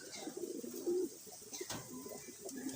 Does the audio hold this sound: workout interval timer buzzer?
no